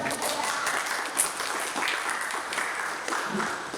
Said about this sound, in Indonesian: Mari kita sambut narasumber kita dengan tepuk tangan yang meriah